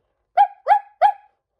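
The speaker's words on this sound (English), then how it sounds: "I realize where the barks are coming from" A dog barks three times in quick succession on a snowy mountain, each bark clear and fairly close with a short tail, the calls evenly spaced across under two seconds.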